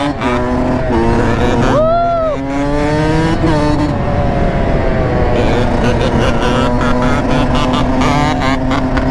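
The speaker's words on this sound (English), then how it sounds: "Homie out here with the 2-stroke." A two-stroke engine, here a YCF 190 pit bike, revs steadily at a busy outdoor lot, a continuous loud buzzing drone with a rising whine partway through, heard alongside other vehicles and voices.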